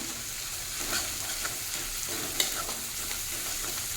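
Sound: stir-frying spices for katla fish curry

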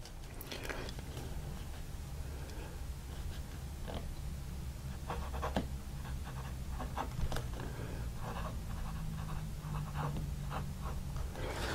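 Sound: Wingsung fountain pen writing on paper

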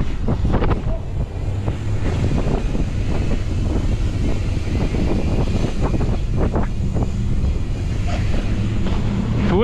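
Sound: wind

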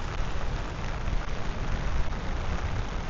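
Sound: rain falling straight down in a park

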